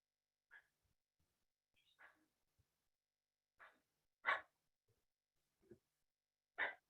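A dog gives short, sharp barks and soft whimpers at irregular intervals, each sound isolated and fairly close against an otherwise quiet room.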